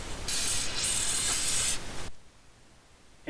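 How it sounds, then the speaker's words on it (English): Cleaner sprays in a loud, close hiss into the intake ports of a BMW 335i engine for about two seconds, with a short break partway through. Near silence follows, then a short final burst. "Spraying the ports."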